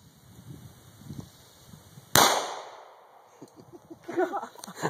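A single 9mm handgun shot fired outdoors cracks sharply once, a bright, abrupt report that decays quickly, set against quiet background rustle and faint later movement.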